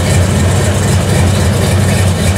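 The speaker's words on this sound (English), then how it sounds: "Oh yeah, the exhaust, it's got mufflers on it" A 1971 Nova's engine idles through an exhaust with mufflers, a steady low rumbling burble heard close and loud, with no talk over it.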